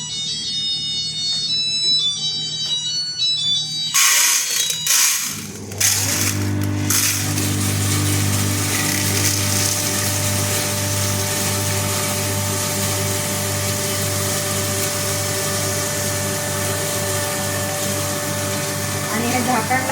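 A home electric flour mill runs steadily as wheat grinds, preceded by a short electronic melody and a few clunks, then a loud continuous droning hum with a constant tone lasting throughout.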